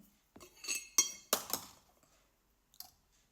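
Drinking glasses clink together in a toast: a few sharp, bright clinks in quick succession, then a lone faint clink after a short pause, with no talking.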